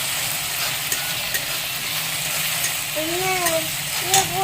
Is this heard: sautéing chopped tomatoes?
yes